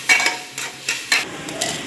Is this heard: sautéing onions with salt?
yes